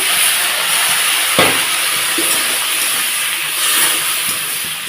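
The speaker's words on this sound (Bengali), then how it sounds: "এটা এখন আমি একটু মশলার সাথে জল দিয়ে এগুলোর সঙ্গে কষিয়ে নিচ্ছি" Spice paste with added water sizzling and hissing in a pan while cooking a vegetarian jackfruit and chana dal dish, a loud continuous hiss with a sharp clatter early on.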